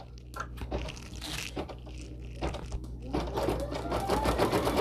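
Home embroidery machine stitching out a design in Coats embroidery thread, a steady rapid mechanical patter close by that grows louder and denser partway through, with no talking.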